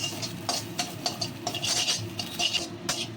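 Neem leaves stirred and fried in a few drops of oil, with a spatula scraping and rubbing the pan in an irregular rhythm of soft rasping strokes, fairly quiet and close.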